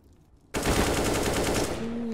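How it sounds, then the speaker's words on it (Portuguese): Sudden burst of rapid automatic video game gunfire, fired through smoke in a professional esports match, erupts after a brief quiet moment and continues loudly and steadily to the end. "Já tem os disparos no meio da smoke."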